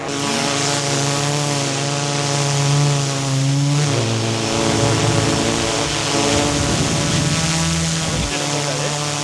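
A DJI Mavic 4 Pro drone flying, its steady whining propeller hum holding a constant pitch with a brief shift partway through. The sound is fairly loud and continuous throughout.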